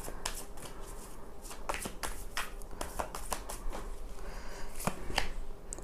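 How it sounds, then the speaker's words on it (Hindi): Tarot cards being shuffled by hand, a run of crisp riffling bursts and soft slaps repeating in an uneven rhythm, close and fairly quiet with no talk. "चलिए 2 कार्ड्स निकालूंगी ओशो से।"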